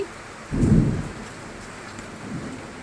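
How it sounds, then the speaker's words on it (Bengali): Heavy rain hisses steadily in Kolkata while one deep, loud thunderclap rumbles through and fades back into the downpour. "আর বাজ পড়ছে কি জোরে জোরে, ভয়ে ছাদে যেতে পারলাম না।"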